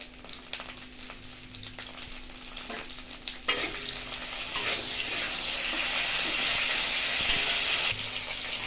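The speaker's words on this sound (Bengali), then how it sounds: "এই কপিটা আমি ভেজে নেব অল্প একটু লবণ আর হলুদ দিয়ে" Cauliflower pieces frying in mustard oil with salt and turmeric give a steady close sizzle that grows denser and louder partway through, with a few scrape and stir clicks.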